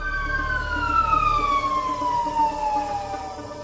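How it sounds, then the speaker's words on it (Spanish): Ambulance sirens in Hermosillo, Mexico, wail loudly and up close. Their tones sweep slowly downward and sit over a low rumble of traffic, with no voices. "Veía que había muchas ambulancias"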